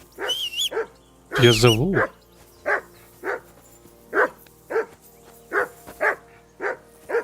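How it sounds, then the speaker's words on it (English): A dog in the medieval game Kingdom Come: Deliverance 2 barks in a steady run of about nine sharp, evenly spaced barks. Someone speaks briefly over the opening barks. "Call off that mutt of yours."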